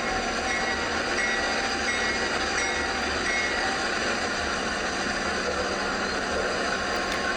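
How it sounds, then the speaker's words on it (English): A train slowing down rumbles steadily along the rails with a constant mechanical drone and faint metallic squeal, close by, no voices. "the train is slowing down because the brakeman has to align a switch"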